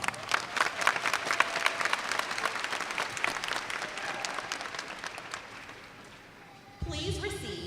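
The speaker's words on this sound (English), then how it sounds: "Please give them a round of applause." Loud, sustained applause from a large crowd at a high school graduation ceremony, dense clapping that slowly fades before a brief burst of other sound at the end.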